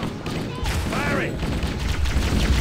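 Gunfire in the video game Halo: Combat Evolved: a continuous barrage of shots and explosive thumps, loud and dense throughout, with a voice briefly speaking over it.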